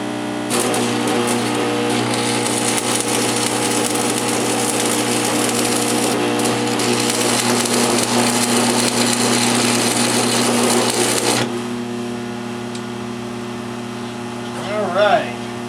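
A Century AC/DC stick arc welder on its AC setting, with a little loose metal rattling on it, gives a steady loud buzzing hum that carries for about eleven seconds and then drops to a quieter idle drone.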